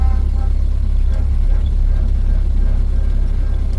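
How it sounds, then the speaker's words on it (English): A 1930 Ford Model A Woody Huckster drives through downtown Jonesborough, Tennessee. Its engine gives a steady, close, low rumble that runs without a break, with no talk over it. "First time driving the Huckster"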